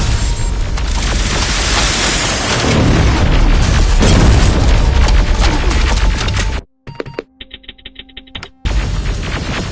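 A rocket blast in Terminator Resistance arrives as a loud, sustained roaring boom with heavy low rumble, then cuts abruptly to sparse clicks and tones before the roar returns.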